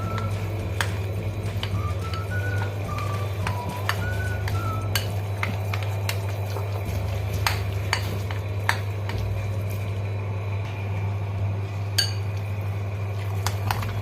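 Chopped vegetables with plenty of fresh coriander and a few mint leaves are stirred together in a bowl for rava dosa, giving scattered close clinks and scrapes over a steady low hum, with no talking.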